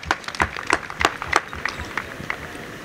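A crowd at an outdoor gala evening claps in a burst of separate, fairly loud claps that thin out and fade after about a second and a half.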